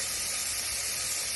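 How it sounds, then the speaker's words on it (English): Sausage sizzles in melted butter in a pan, a dense, steady crackling hiss heard up close with no voices. "Love that sizzle."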